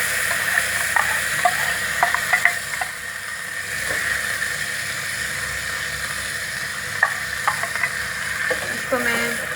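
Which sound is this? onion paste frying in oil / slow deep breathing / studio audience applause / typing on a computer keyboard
onion paste frying in oil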